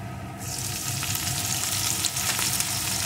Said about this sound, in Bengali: পেঁয়াজ কুচিটাও ভেজে নেব